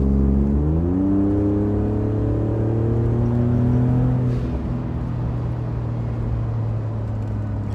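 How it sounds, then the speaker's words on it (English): A 2017 Ford Raptor with a Flowmaster FlowFX exhaust accelerates through traffic, its deep growl climbing in pitch over the first few seconds, then settling into a steady low cruising rumble heard from inside the truck. "pretty much all you're hearing is the actual exhaust"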